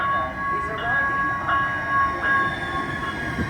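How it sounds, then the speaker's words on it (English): A southbound Blue Line light rail train to Mall of America pulls into a station, steady rumble of the cars with sustained tonal horn or brake notes; no speech. "A southbound blue line train to Mall of America is arriving"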